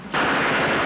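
A machine gun fires in a war film about tanks, a sudden dense, unbroken burst that starts abruptly and holds steady and loud with a harsh, hissing rattle.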